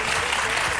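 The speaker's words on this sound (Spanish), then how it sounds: "Bueno, un aplauso para ellos." Audience applause at a live school debate-style event with a crowd in stands, a dense, steady burst of clapping filling the short moment at full volume.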